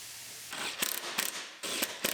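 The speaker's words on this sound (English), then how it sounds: "Then we'll draw it all the way down by tightening up the nuts on the bottom, a little on each side." Nuts are tightened with a ratchet on a bushing bracket of a Kia Sorento, giving close, rapid metallic clicking in short bursts with a pause between pulls.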